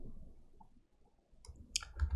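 A few quiet, crisp mouse clicks land near the end as the new-file button is pressed in a code editor, alone with no talking.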